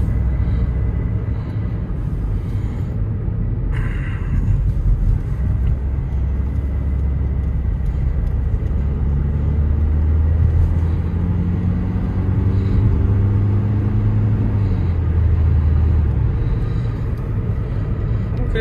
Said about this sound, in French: on a toujours la sonorité du moteur qui est présent sur l'habitacle